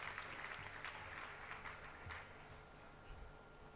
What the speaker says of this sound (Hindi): तालियां बजाकर अभिनंदन कर दें